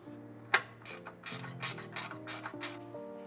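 Ratcheting clicks from tightening bolts on a bed riser assembly, coming as a series of quick clicking bursts over several turns, close and fairly loud, with no voices.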